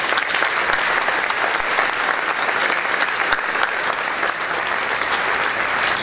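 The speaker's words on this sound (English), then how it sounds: "Let's give them a round of applause." An audience at the 2018 Wooster Chamber dinner gives a steady, full round of applause, dense clapping from many hands that holds for several seconds with no speech over it.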